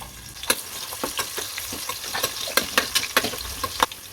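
Chopped onion hits hot oil in a pressure cooker and fries with a steady crackling sizzle, broken by sharp stirring scrapes and spatters at an irregular pace, close and fairly loud with no talk.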